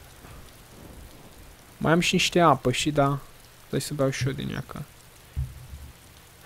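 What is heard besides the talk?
rain falling in the video game DayZ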